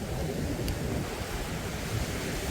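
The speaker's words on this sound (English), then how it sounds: "Now it's getting really windy" Strong wind buffeting the microphone over surf on a beach at Silver Beach, Koh Samui, forming a dense, loud, continuous roar with no talk.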